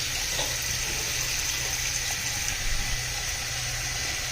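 Water running steadily from a tap and draining in a newly built house, a constant hissing flow at moderate volume with a faint low hum beneath and no voices.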